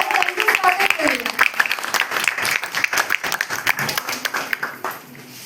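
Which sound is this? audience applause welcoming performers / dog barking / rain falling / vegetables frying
audience applause welcoming performers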